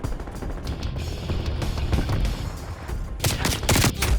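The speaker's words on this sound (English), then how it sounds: "Strafe run incoming on your location." Strafe run gunfire in Black Ops Cold War: rapid, heavy automatic bursts and booming impacts rattle close and loud, intensifying toward the end.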